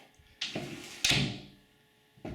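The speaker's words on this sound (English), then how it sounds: "You can see when I close the door now," A door fitted with Baldwin door hardware swings shut with a soft thud, then a sharper latch click and clack, followed by a lighter rattle of the hardware, close and alone in a quiet room.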